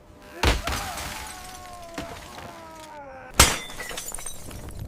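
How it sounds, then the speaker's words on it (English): Equipment being smashed at a wartime Arctic weather station, with barometers and transmitters destroyed. Two heavy crashing impacts ring out with glassy shattering debris, separated by a tonal ringing tail, close and loud. "They smashed barometers, burned documents, shattered transmitters."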